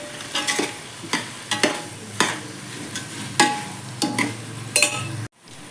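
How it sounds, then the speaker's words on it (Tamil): Ginger garlic paste and salt are stirred in a cooking pot over heat, repeated spoon scrapes and clinks in an uneven rhythm over a soft sizzle, close and moderately loud before cutting off. "நல்லா மிக்ஸ் பண்ணி விட்டுக்கலாம்."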